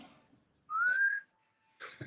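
A person whistles one short rising note, clear and close, between brief rustling noises, with no one talking.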